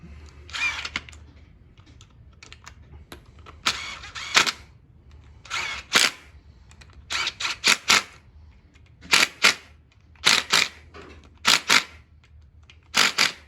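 Short repeated bursts from an impact gun, turned down in power, tightening camshaft retainer plate bolts on a 6.0 LS engine during a cam install, each rattling burst loud and close with brief pauses between.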